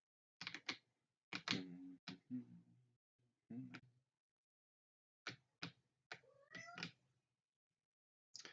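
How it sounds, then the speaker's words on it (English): A cat meows repeatedly at close range, with several short, separate, fairly quiet cries spaced by brief pauses. "What are you meowing about, cat?"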